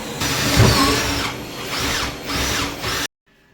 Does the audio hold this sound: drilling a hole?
yes